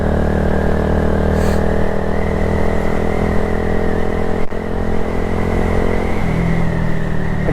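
A 2022 Honda Grom motorcycle cruising at sunrise, its small engine holding a steady loud drone with wind rush throughout, and one brief dip partway through.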